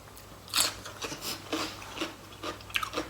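Someone eats meatballs with a tangy dipping sauce, with close, intermittent bites and chewing that come in short bursts over a quiet background.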